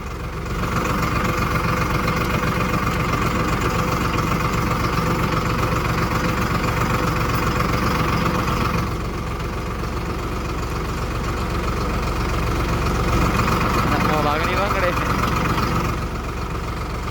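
A tractor engine runs steadily during potato digging on a farm, a loud continuous diesel drone with low knocking vibration that dips slightly midway and swells again near the end.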